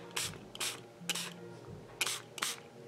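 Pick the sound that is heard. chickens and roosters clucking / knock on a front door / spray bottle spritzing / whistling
spray bottle spritzing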